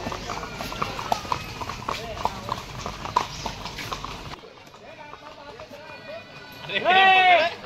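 Horse hooves clip-clop on a trail at Matheran hill station, a run of quick close hoofbeats that thins out midway, with voices talking over them and a louder vocal burst near the end.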